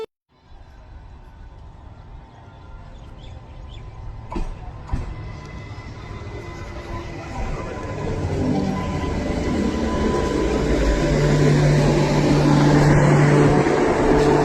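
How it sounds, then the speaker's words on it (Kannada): A morning train pulls into a station, its rumble and rattle building steadily from quiet to loud over the span, with brief clanks along the way. "ಟ್ರೈನ್ ಬಂತಾ ಇಲ್ಲಿ."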